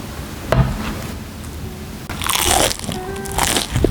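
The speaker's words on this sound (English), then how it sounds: "Did you hear how crunchy and crispy that is?" Crunchy bites into a crispy fried beef patty filled with seasoned ground beef, loud close-up crackling bursts around one and a half seconds and again between two and four seconds, with no talking.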